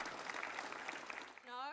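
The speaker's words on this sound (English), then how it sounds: "Labor gave a round of applause" Applause rolls through a parliamentary chamber, a steady patter of many hands at moderate distance, fading as it ends.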